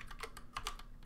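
A command is typed on a computer keyboard at a compute cluster terminal, heard as quiet, quick, irregular key clicks close by, with no voices.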